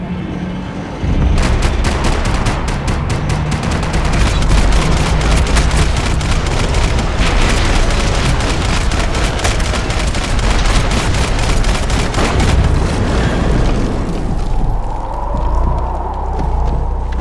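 Sustained gunfire in the Max Payne 3 video game: rapid, dense shots rattle almost without pause for about twelve seconds after a short quiet start, loud and close, then thin out into scattered reports.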